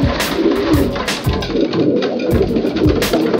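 Long-distance racing pigeons of the Brueggemann line coo continuously inside a breeding loft, their low throaty calls repeating in overlapping pulses close by, fairly loud, with no voices.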